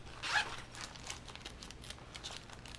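A zipper on a handmade fabric travel desk pouch gives one quick, close rasp near the start, followed by quieter fumbling and rustling with no talking.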